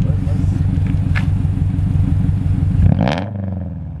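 A K20-swapped car engine drones loudly and steadily with a pulsing rumble from inside the cabin while accelerating, then eases off abruptly near the end.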